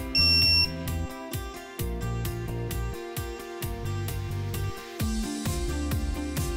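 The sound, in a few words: electronic torque wrench self-test buzzer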